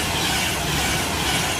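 A Virgin train on the West Coast Main Line, the Manchester Piccadilly to London Euston service, runs through Longport station as a loud, steady broadband roar with no voices.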